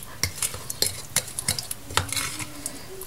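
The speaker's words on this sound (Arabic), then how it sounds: "وهقلب بقى المكونات دي كده مع بعض" A spoon stirs pizza sauce ingredients with thyme and a spoonful of corn or olive oil in a bowl, giving repeated close clinks and scrapes at an irregular rhythm, no talk.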